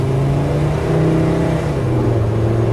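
A 2008 Volkswagen New Beetle's 2.5-liter five-cylinder engine revving steadily with a throaty, humming drone that rises and dips slightly, close and fairly loud, no voices.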